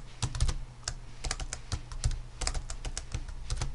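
Rapid, uneven keystrokes on a computer keyboard as network device configuration commands are typed, close and clear, with short bursts and pauses between clusters of clicks.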